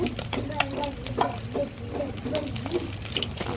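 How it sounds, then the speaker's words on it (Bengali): Crackling, bubbling oil as fish fries until nearly crisp in a pan, with clinks and scrapes of a spatula throughout. "মাছটা প্রায় কড়া করে ভাজা হয়ে গেছে।"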